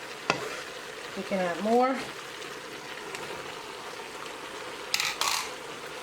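White button mushrooms frying in a hot pan and getting stirred, a steady low sizzle with a couple of scraping clinks from the utensil, while a person speaks briefly.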